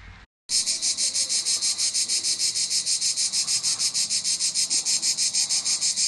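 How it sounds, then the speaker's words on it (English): Crickets chirp loudly in a dense, pulsing rhythm of rapid trills, continuous and close after a brief quiet start, with no talk. "And find out where them crickets are, Keisha."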